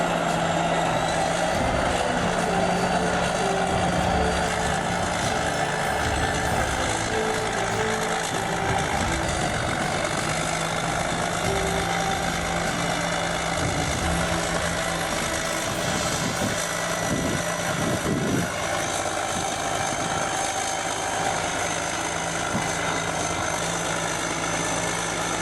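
A heavy vintage diesel engine idles loud and close in a yard, a dense continuous low throb with steady mechanical clatter that holds through the whole stretch, with no talking.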